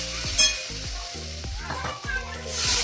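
Spice paste hits ginger and garlic already browning in a hot pan, giving a continuous loud sizzle with recurring stirring scrapes close by.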